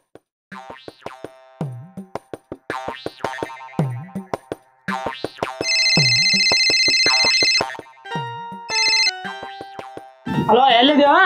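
A mobile phone ringtone sounds during a call, with sustained electronic tones and a short burst of ringing tones breaking in among lively, close vocal sounds.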